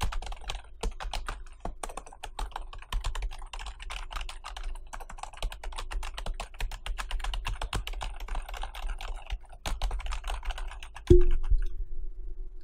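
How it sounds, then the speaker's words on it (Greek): Fairly quiet keystrokes on a Razer DeathStalker Chroma membrane gaming keyboard, a steady stream of soft close-up clicks that ends with one louder thump. "όπως ακούτε δεν έχει καμία σχέση με τα μηχανικά πληκτρολόγια. Είναι αρκετά σιγανός ο θόρυβός του"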